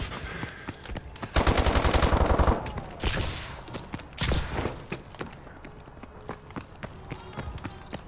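Rapid automatic AK-12 fire in Call of Duty: Advanced Warfare gun game mode, with a loud sustained burst of machine-gun rattle, then shorter shots, footsteps and game noise.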